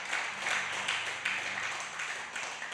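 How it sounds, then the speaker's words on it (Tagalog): A church congregation at a Sunday worship service applauds together, a dense burst of many hands clapping that fills the room briefly and then begins to fade. "isang malakas na palakpak nga po para sa Panginoon"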